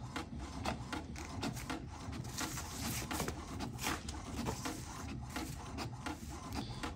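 An HP Ink Tank printer runs continuously through a print job, giving a steady mechanical whir with repeated rasping, clicking feed strokes close by. No one speaks over it.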